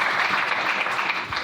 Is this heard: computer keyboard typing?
no